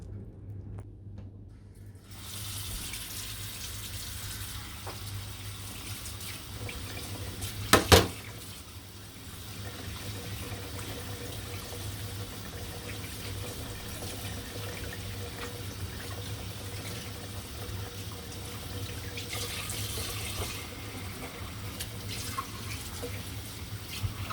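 Tap water runs steadily into a kitchen sink as fish are rinsed, a continuous faint wash with a brief louder splash near the middle and no talking.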